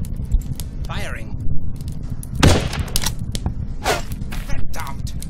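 Gunfire in the tactics game Achtung! Cthulhu - Tactics: a short burst of shots lands mid-clip, with game sound effects around it and voices talking over the action.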